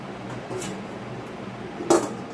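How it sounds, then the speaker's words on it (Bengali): A metal lid set down over a wok of fish in a home kitchen gives one brief clatter near the end, against a quiet background. "অল্প জল দিয়ে চাপা দিয়ে দেবো।"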